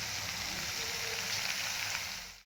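Curry leaves hitting hot oil in a pan for a Marathi farsan bhaji, giving a steady, dense sizzle and crackle that holds evenly close up for about two seconds, then cuts off.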